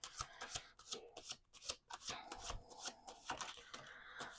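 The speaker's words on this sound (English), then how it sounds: "Let's do one more shuffle." A deck of cards is shuffled over and over in quick riffling bursts, close and fairly quiet, with no one talking.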